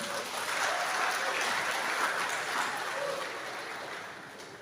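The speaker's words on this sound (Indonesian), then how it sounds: "tepuk tangan untuk ibu-ibu ini" An audience at a Maulid Nabi gathering breaks into dense, sustained applause that swells early and then gradually tapers off, with no talking over it.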